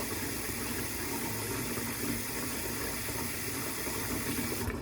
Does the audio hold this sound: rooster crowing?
no